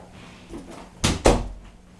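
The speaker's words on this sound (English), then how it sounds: "Hang on, just gotta close the door." A door is pushed shut indoors in a room with a 1970s Technics amplifier setup, two close, solid thuds about a quarter second apart, with no talking.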